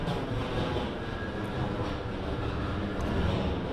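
A New York City subway Q train bound for Coney Island runs on from Times Square with a steady, broad rumble and rail roar that hold at an even loudness throughout, with no voices.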